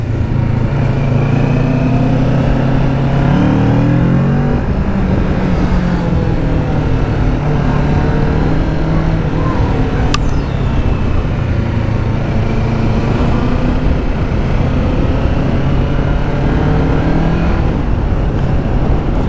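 Kawasaki Z900 motorcycle engine pulling and accelerating, a steady loud drone with pitch shifts through gear changes, heard close over continuous wind and road noise.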